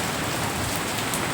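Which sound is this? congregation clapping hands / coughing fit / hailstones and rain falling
hailstones and rain falling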